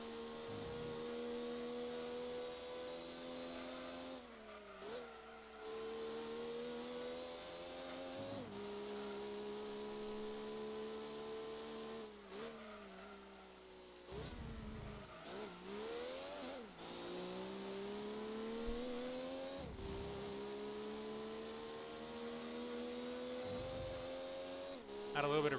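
Racing game car engine from Gran Turismo 2, a steady synthetic engine drone that rises and falls through repeated gear shifts, loud and continuous throughout with brief dips between gears.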